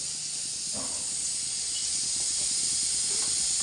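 Cumin and mustard seeds sizzle in hot oil in a pan while a lentil and tomato curry is being cooked, giving a steady, loud hiss throughout with faint crackles.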